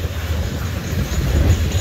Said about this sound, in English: High Wide train.